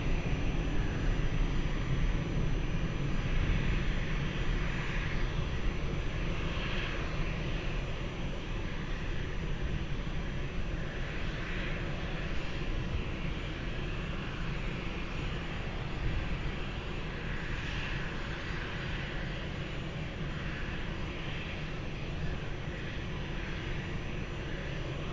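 A fixed-wing airliner landing on runway 20 at Lisbon Airport, a steady low engine roar heard from a distance throughout, with no voices.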